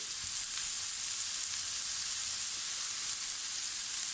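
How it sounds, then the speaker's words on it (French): Green and white onions fry in olive oil in a pan, giving a steady, close, bright sizzling hiss that holds evenly throughout with no talking. "on va faire revenir les oignons pendant environ 3-4 minutes"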